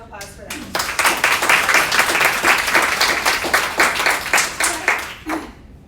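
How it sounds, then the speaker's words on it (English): Audience applause fills a conference hall at a women-in-procurement event in Dallas, a dense burst of many hands clapping that swells quickly, holds steady for several seconds, then tapers off. "another round of applause for them"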